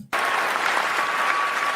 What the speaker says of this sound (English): So first and foremost, notice the applause, right? It's not like it's 2 or 3 people clapping.